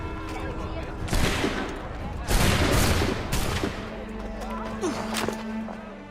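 A gunfire volley in the Assassin's Creed III video game: several loud crackling musket shots fired close together in bursts, with sharp cracks over a busy background and a shouted voice.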